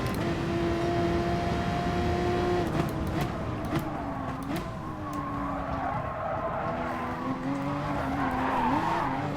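Tyres squeal and skid as a race car oversteers in Gran Turismo Sport, the screech wavering over a steady engine drone for several seconds, close and loud.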